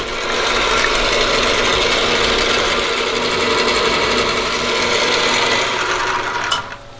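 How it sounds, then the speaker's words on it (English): A milling machine drilling through 4140 steel, a loud continuous grinding, rasping cut that holds steady for several seconds before easing off near the end. "I'm gonna go ahead and get all these six holes drilled all the way through"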